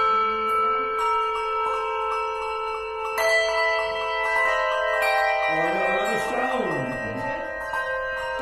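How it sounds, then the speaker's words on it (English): Several hand bells are rung one after another in a circle, their bright sustained tones overlapping and ringing on, with a wavering, shifting sound toward the end as a bell is moved around. "After the person next to you has rang their bell, and then ring your bell"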